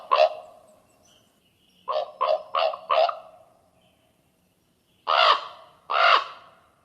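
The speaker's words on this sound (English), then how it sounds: "This is a raven. They croak." A common raven croaks in three bursts: one call, a fast run of four, then two spaced calls, loud and close against a quiet background.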